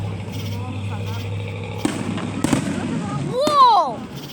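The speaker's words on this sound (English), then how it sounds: "It's the fireworks." Fourth of July fireworks burst outdoors with two sharp booms, then a rising whistling crackle, over a low rumbling background.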